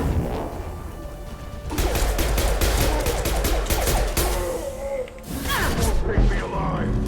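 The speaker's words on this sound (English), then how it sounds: "Firing concussive shot." A concussive shot blast and gunfire in Mass Effect 2, a loud crashing impact followed by dense rattling automatic fire and another heavy hit near the end, with speech mixed into the combat.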